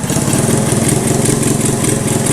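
An old Honda three-wheeler found abandoned in a field, its engine turning over and sputtering as it tries to start, giving a loud close rough chugging drone that holds steady throughout.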